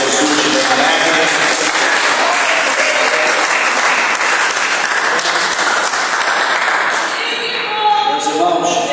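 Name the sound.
congregation applause for Jesus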